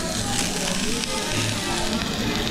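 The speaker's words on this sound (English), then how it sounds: "Sizzling." Steady loud sizzling of steak on a hot plate, a dense crackling hiss that continues throughout with some background noise.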